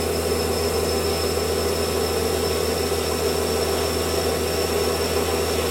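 A metal lathe runs at 1100 RPM with a loud, steady mechanical hum and whine that holds constant from start to end, with no talk.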